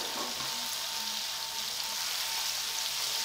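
Chicken pieces, boiled then coated in flour and cornflour, frying in oil with a steady, bright sizzle and crackle, continuous and close, with no voices.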